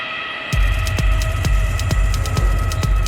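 A train on the new Sulawesi railway starts up after a brief quiet moment, bringing a loud, steady low hum and a regular throbbing beat of wheels over rail joints, close and continuous.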